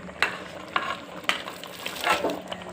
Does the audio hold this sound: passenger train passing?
no